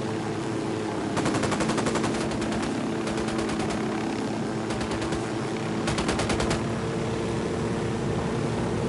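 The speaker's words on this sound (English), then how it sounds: "I'm opening fire." Automatic gunfire from the video game Ghost Recon Wildlands, fired in three sharp, rapid bursts that stand out loudly over a steady low engine-like drone in the background.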